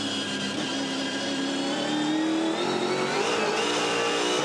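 A V8 Supercar race car at Sandown accelerates hard at full throttle, its engine note climbing steadily in pitch, loud and continuous with no talk over it.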